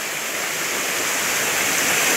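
Water rushes out beneath a village road bridge, a continuous broadband roar of flowing water that stays steady and close throughout, with no other sounds.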